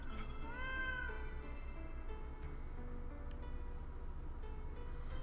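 Cat meows from a video game's world cat catalog featuring breeds such as the Abyssinian, a rising synthesized-sounding mew over steady background game music, fairly loud and alone without talk.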